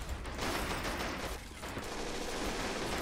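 Dense, continuous gunfire from a .50 machine gun in the war strategy game Men of War: Assault Squad 2, a noisy, crackling stream of rapid shots with mechanical rattling throughout.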